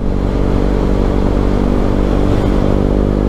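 A 2022 KTM Duke 125 motorcycle engine runs close and loud with a steady, buzzy idle and rev, its tone holding constant for the whole stretch.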